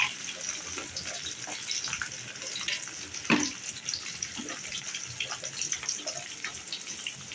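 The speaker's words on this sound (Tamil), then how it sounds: "வெங்காயத்தை நம்ம சேர்த்துக்கலாம். சேர்த்து நல்லா வதக்கி விட்டுருவோம்." Onions sautéing over high heat in a pan for brinjal thokku, a steady broadband sizzle running throughout with scattered faint clicks and one brief louder knock near the middle, no talking.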